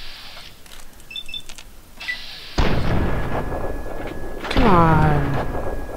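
Sniper rifle fire in Fallout 3: a couple of sharp, heavy shots with ringing tails, the last one followed by a descending whine, while a man mutters briefly between them.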